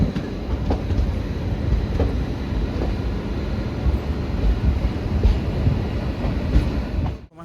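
A special train from Kolkata rolls into New Jalpaiguri station, heard from on board as a continuous, loud rumble with rhythmic wheel clatter that stays steady throughout, with no talk.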